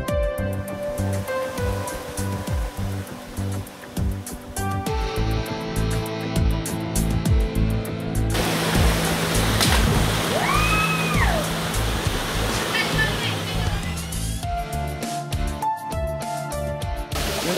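Water crashes steadily at the Siete Cascadas of Naranjal in Ecuador as a continuous broadband rush, with music playing over it throughout.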